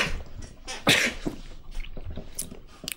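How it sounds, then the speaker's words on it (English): One sharp, close human sneeze bursts out near the start, followed by faint rustling and soft background noise for the rest of the moment. "Ooh, I'm gonna have to sneeze."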